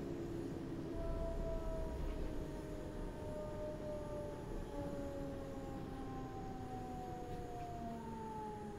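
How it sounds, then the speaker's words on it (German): A train departing in Train Sim World 5 on a main line in the Rhine-Ruhr region between Essen and Duisburg, with steady rumbling running noise and long, slowly falling whining tones from the moving train, continuous and moderately distant. "auch der Zug hier rechts neben mir wird gleich Ausfahrt haben"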